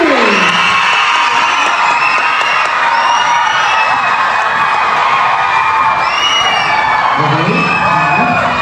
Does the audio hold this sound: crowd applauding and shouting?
yes